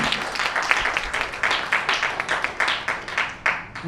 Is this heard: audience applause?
yes